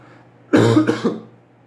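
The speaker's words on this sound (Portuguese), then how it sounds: "Peço perdão por essas tosses aqui, tá?" Two or three harsh coughs in quick succession, close to the microphone, then quiet.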